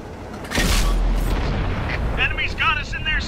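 A tank cannon firing in World of Tanks, a single heavy, close boom followed by a rumbling tail, with a short crew voice line over the end.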